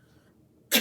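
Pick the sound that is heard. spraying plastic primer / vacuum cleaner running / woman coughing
woman coughing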